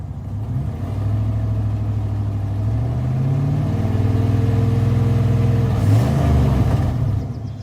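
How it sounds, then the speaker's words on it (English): A 1995 Dodge Ram 2500 V8 idles steadily with its muffler pulled away from the tailpipe, giving a low rumbling drone with a faint pulsing exhaust puff, close by and without talking, with a brief rise near the end. "the muffler come away from the tailpipe a little bit, and so now it's got that kind of psh, you know, every time the motor cycles"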